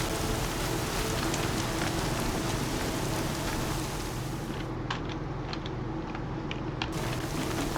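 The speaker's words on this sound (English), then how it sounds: "Here comes the rain." Steady rain falls in the video game Horizon Zero Dawn, a constant hiss of drops on the ground with scattered nearer splashes, moderately loud and alone, thinning briefly near the end.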